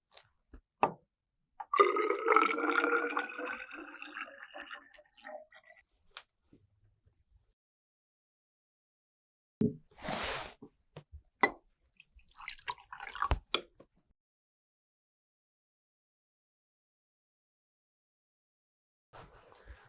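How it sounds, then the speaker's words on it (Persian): Pure water pours into a graduated cylinder in a short burst of rising, gurgling fill early on, followed by scattered drips, taps and handling clicks separated by long stretches of silence. "آب اضافه می کنم."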